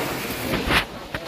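Strong sea waves churn along a seaside shoreline the morning after a typhoon, heard as a steady broadband rush with a couple of brief louder surges, close to the microphone and with no talking.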